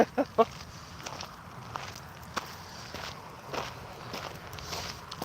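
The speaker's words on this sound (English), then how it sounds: "You make all the gross noises. Breathing, sniffles, grunts, wheezes." Footsteps of a runner on a long run in Tokyo thud in a steady rhythm, with a few sharper bursts at the start and heavy breathing faintly audible under street background.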